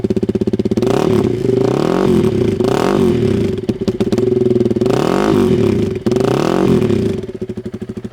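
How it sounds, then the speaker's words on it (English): A Honda CRF300L with a Graves exhaust idles with a rapid, loud thump, then revs hard several times in rising and falling surges before settling back to a throbbing idle, very close. "Here, I'll make the noise for you so you can hear it. And I'll rev it for you."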